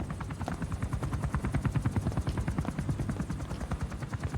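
A helicopter in the video game Metal Gear Solid V: The Phantom Pain makes a steady, rapid rotor chop that stays loud and close throughout, with no other sounds.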